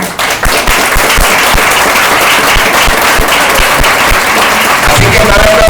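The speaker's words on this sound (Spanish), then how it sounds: "¿Puedes dar un aplauso?" A large audience at a religious retreat gathering breaks into loud, dense, sustained applause that fills the room, with some voices mixed in.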